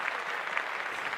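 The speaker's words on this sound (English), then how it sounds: "Clap that up." A studio audience on a podcast claps in a short, steady burst of applause, faint and even, with no voices over it.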